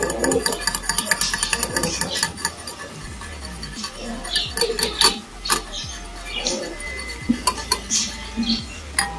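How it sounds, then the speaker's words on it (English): Rapid clinking of a utensil against a bowl while beating egg for a stovetop pudding, a fast steady rhythm of close metallic ticks with a few louder knocks. "So now you have to beat the egg properly."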